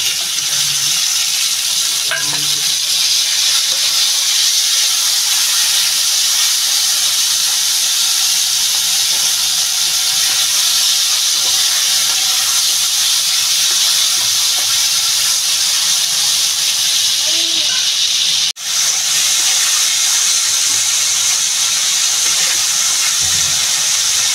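Potatoes frying steadily in hot oil in a home kitchen as the first step of a thin tilapia and eggplant curry, a continuous close sizzle and hiss running throughout with faint stirring, and one brief dip near the end.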